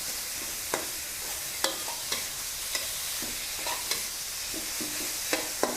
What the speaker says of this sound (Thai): ค่อย ๆ ผัดไปค่ะ ให้หมูหมูมันจะได้มีความนุ่มๆ มีความฉ่ำๆเนาะ